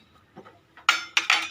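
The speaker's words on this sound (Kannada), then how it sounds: "ಮಿಕ್ಸಿದ ಜಾರಿಗೆ ದಾರ ಪುಳಿ ಪಾಡಿಯೆ" Star fruit pieces dropped into a mixer grinder jar, a few quick clinks and taps on the jar, close and soft, with a brief pause before two louder knocks.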